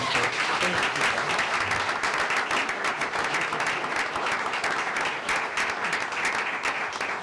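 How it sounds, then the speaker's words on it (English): Steady applause fills a city council meeting chamber for about seven seconds, even and continuous clapping from a moderate-sized gathering. "Let's give Michelle a round of applause."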